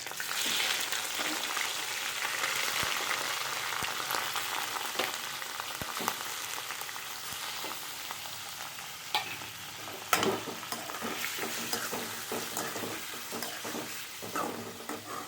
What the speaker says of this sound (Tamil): இதோட நம்ம வாஷ் பண்ணி வச்சுருக்க ப்ரானை சேர்த்துக்கலாம்.